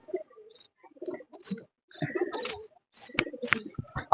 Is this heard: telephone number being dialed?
no